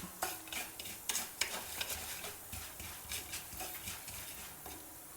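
Urad dal lightly frying in a pan while being stirred, giving faint scraping strokes and soft crackle that recur irregularly over a low sizzle, with no talk.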